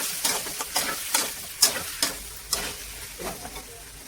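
Washed chicken stirred into frying masala paste, steady sizzling broken by repeated scraping stir strokes in a regular rhythm, close and fairly loud.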